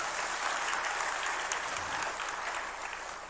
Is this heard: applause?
yes